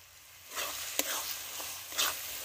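Spice masala fries in a pan outdoors in a garden, giving a quiet, steady sizzle with brief scraping bursts from stirring.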